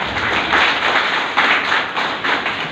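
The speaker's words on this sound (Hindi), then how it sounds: "एक बार जोरदार तालियां आप सभी हमारे आज के नए मेहमानों के लिए" An audience clapping to welcome new guests, a crowd's hands sounding in a busy, continuous patter with a few louder swells, close and loud with no talk over it.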